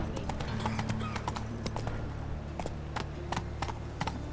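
Horse hooves galloping in The Witcher 3 video game, a fast continuous clip-clop of hoofbeats, close and steady, over a low rumbling game background.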